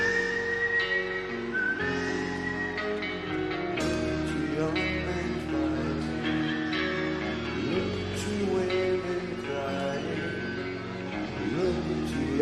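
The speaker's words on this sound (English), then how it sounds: "a song with whistling in it" Whistling carries the melody in a song, a clear tune running at moderate level over the band's accompaniment throughout.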